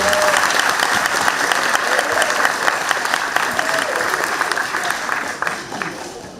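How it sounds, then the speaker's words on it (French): Children's concert audience in Tremblay-en-France applauding loudly, a dense sustained wash of clapping that holds steady for several seconds before thinning slightly at the end, with a voice faintly over it. "On l'applaudit très fort, Naël."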